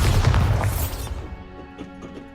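Bombarda explosion spell in Hogwarts Legacy, a single loud, deep blast with a crashing burst that quickly decays into scattered faint debris and ringing tails.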